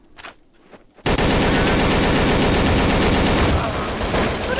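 Rapid, sustained automatic gunfire from the Counter-Strike video game starts abruptly after about a second of near-quiet and rattles on loudly and densely for several seconds, with a few faint shots at the start.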